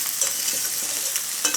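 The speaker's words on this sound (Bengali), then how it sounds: "এইভাবে মাংসের সঙ্গে খুব ভালোভাবে মিশিয়ে নিতে হবে কিন্তু" Chicken and chopped bottle gourd are stirred together in a hot pan, giving a steady close sizzle broken by soft scrapes of the spoon, with no voices.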